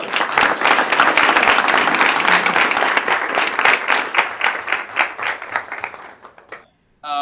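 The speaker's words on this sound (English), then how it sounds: "Let's give them a big round of applause." An education-meeting audience breaks into loud, dense applause that stays strong for several seconds, then thins into scattered claps and fades to near silence before a brief burst of sound at the end.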